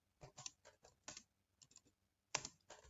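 Computer keyboard typing in irregular bursts of quick keystrokes, close and fairly quiet, with short pauses between runs and no talk over it.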